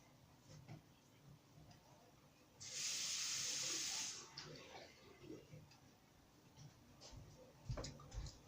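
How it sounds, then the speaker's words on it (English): Tap water running into a sink while it is being cleaned, a soft steady hissing stream lasting just over a second, set among quiet clinks and handling noises in a still room. "Clean my sink out a little bit."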